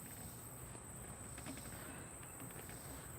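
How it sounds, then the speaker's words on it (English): Crickets and small insects chirp in a faint, steady chorus outdoors on a front porch in the evening, with no voices over it. "The bumblebees, and you hear the little bugs."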